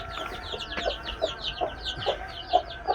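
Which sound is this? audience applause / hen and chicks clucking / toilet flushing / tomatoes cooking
hen and chicks clucking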